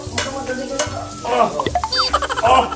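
Chopped onions hit hot oil in a home kitchen pan, sizzling and crackling alongside scraping stirs. People can be heard talking close by over the frying.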